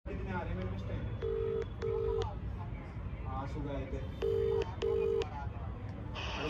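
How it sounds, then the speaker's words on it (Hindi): Phone dialing tones sound in two pairs of short beeps over background talk and street noise, with a brief electronic chirp near the end. "तो कॉल करिए सक्षम पे"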